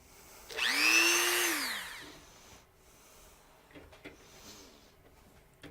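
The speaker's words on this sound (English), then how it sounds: "this is the Dremel 3000, and it has a easy lock metal cutting blade on it." Dremel 3000 variable-speed rotary tool with an EZ Lock metal cutting blade spins up into a loud rising whine that sweeps in pitch and fades within about two seconds, followed by faint handling clicks.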